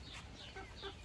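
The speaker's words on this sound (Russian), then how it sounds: "В центральном вольере у меня живут цыплята." Chicks of two ages in a central outdoor enclosure on a small farm give a few faint, quick peeping calls in a short burst.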